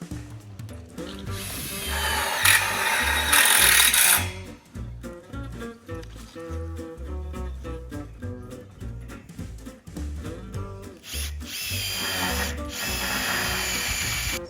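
A Makita power drill drives screws into a polytunnel frame. The motor whines in bursts that rise and fall, with gritty grinding as each screw bites, close and fairly loud, with short pauses between runs.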